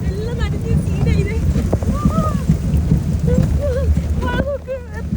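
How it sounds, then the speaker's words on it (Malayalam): Heavy rain pours on a muddy, waterlogged area and makes a dense, loud, unbroken hiss. Scattered high whistling or chirping tones ride over the downpour. "മഴ നോക്ക് എത്ര മഴയാണ്"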